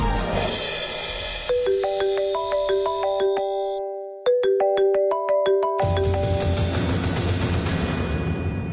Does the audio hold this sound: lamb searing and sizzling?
no